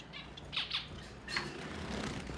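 Zebra finches in a breeding cage, a few quick high squawks and chirps in a small cluster, then another short call, faint against soft background noise.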